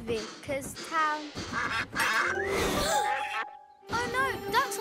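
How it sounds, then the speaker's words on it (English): Cartoonish duck quacks from ducks on a train track sound in quick bursts mixed with a lively voice and a bright tinkling tone, close and fairly loud. "Oh no, ducks on the track."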